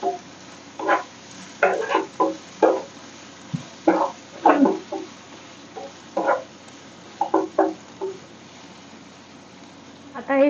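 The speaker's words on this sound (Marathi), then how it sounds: "आणि आता याला पुन्हा छान मिक्स करूया" Spoon scraping and stirring Schezwan masala Maggi noodles with salt in a pan, a series of short, irregular clattering strokes at close range over a quiet background.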